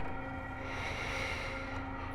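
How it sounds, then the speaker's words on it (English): A train passing at a distance near a roadside food shack on a Jasper to Kamloops route, heard as a steady, low rumbling wash with no talking. "Oh, that's the train you might be hearing."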